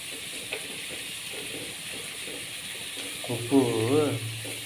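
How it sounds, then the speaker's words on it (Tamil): Mutton curry bubbles and sizzles softly at a steady simmer in a covered clay pot, with a brief voice-like warble near the end. "மூடியை வச்சுட்டு அது நல்லா கொதிக்குது."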